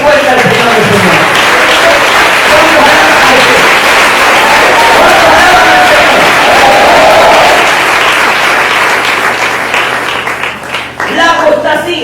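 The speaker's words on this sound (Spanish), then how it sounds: "Un aplauso fuerte al Señor del Señor." A church congregation applauds loudly, sustained dense clapping with voices mixed in, fading slightly toward the end as speech resumes.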